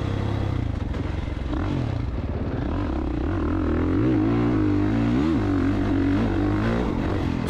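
A 2024 Kawasaki KX450 dirt bike is ridden on a motocross track, its engine loud and steady throughout with revs rising and falling as it shifts and accelerates.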